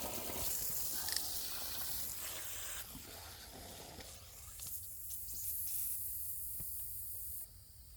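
Water sprays from a garden drip tape that has popped off in a terraced vegetable garden, a soft, continuous hiss with shifting intensity, fairly faint and close, without talk.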